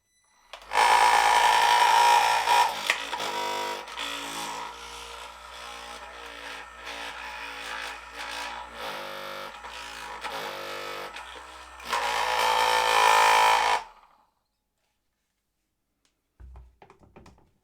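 A Parkside 20V tile leveling machine runs on a workbench with a loud, rapid buzzing vibration that rattles and shifts in intensity, surges again near the end, then cuts off, followed by a few faint handling knocks.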